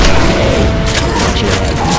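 Gunfire in a Roblox remake of Left 4 Dead 2, loud booming shots over a dense, noisy game soundscape, several irregular blasts crowding together across the moment.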